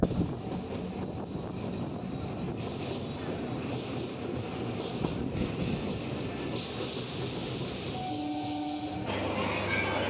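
A MEMU commuter train pulls into Tenali junction, its rumble and rattle heard from on board, steady and close, with wind buffeting and a brief horn-like tone near the end.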